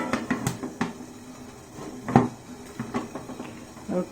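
A plate is set down into a momo steamer over boiling water, making a few light metallic clinks and knocks close by, with one sharper clatter midway and faint voices in the background.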